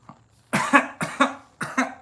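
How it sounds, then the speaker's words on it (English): A man coughs in a short burst of about five harsh coughs in two quick groups, close and loud, with no talking in between. "I don't know why I'm coughing."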